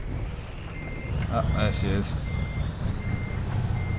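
Truck reversing beeps in Euro Truck Simulator 2: a steady run of evenly spaced warning beeps over a low engine rumble, with someone speaking briefly over them.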